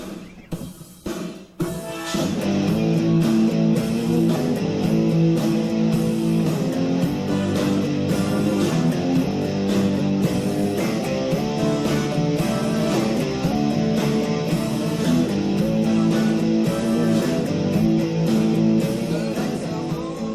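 After a few scattered strums, a guitar launches into a steady chord progression, loud and sustained, with chords changing in a regular rhythm.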